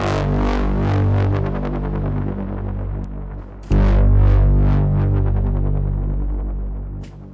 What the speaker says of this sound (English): it just gives this fat and nice analog distortion